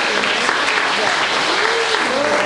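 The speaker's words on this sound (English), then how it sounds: "Clap your hands and give Jesus some praise." A church congregation claps hands in praise, a dense steady wash of applause running throughout, with voices calling out and singing faintly over it.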